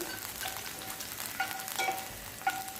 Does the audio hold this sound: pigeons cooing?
no